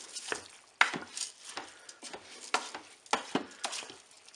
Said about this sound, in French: Et maintenant, je vais mettre le riz. Je mélange également.